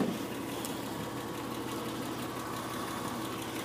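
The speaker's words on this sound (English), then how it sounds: "You can hear the car idling" A 2002 Porsche 911 Cabriolet engine idles steadily with a low, even rumble and faint rhythmic knock, no voices, heard from nearby at moderate volume.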